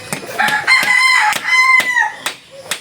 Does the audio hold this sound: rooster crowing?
yes